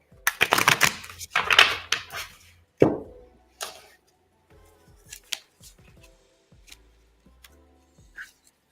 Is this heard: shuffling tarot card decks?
yes